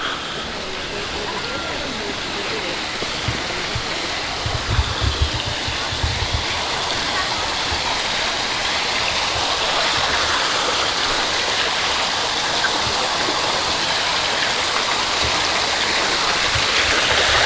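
A fountain at Disney's All Star Music Resort splashes in a steady, rushing wash of falling water, with faint voices and activity in the background.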